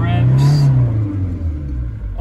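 A 2009 Ford Transit 2.2 TDCi panel van diesel revs high, a loud close engine note rising and holding then easing down, with a voice heard at the start.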